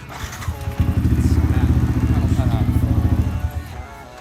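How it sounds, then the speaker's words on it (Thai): A Yamaha R15 motorcycle engine idles close by right after starting, a rapid throbbing putter that holds steady for a few seconds while someone talks over it. "เนี้ยผมสตาร์ทรถแล้ว"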